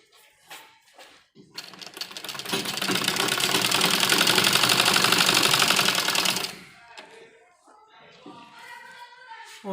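A sewing machine stitches the sleeve of a kurti made from an old dupatta, whirring in one fast, steady burst of several seconds, with someone talking before and after.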